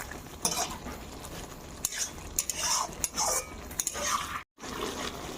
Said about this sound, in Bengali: একটু নেড়ে চেড়ে দিতে হবে সবজিগুলোকে।